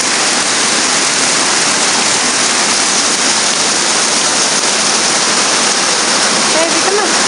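Heavy pouring rain comes down in a dense, constant hiss, loud and close, holding steady from start to finish with no pauses.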